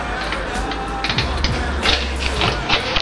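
Tightening the handlebars on a BMX bike during a rebuild, with loud, close ratcheting clicks and creaking in quick repeated bursts over a steady low background hum.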